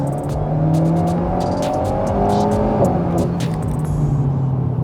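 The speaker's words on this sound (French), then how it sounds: "On entend le turbo" An Alpine A110 turbo engine pulls hard from inside the car, a loud sustained drone rising in pitch, then a short dip and a fresh climb as it keeps accelerating.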